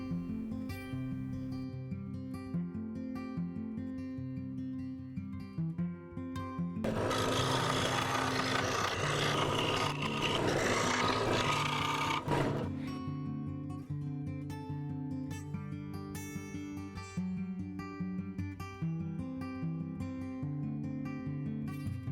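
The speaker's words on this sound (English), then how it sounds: "I could use my scroll saw to clean them up" A scroll saw cuts handle holes in a walnut serving tray, a sustained rasping buzz for several seconds in the middle, framed by quieter tonal sound before and after.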